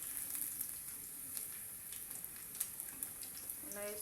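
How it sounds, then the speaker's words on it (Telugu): Cashew chicken pieces frying in hot oil give a steady, soft sizzle with a faint crackle that runs throughout, close by and even in level, with no voices. "చూడండి ఎంత చక్కగా వేగిందో కలర్ కూడా బాగా వచ్చిందండి"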